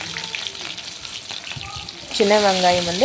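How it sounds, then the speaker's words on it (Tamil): Mustard seeds spluttering in hot oil for a traditional dried anchovy fish curry, with sparse crackles and pops under a soft sizzle; near the end a voice speaks over the frying. "இப்போ கடுகு பொரிய ஆரம்பிச்சிருச்சு"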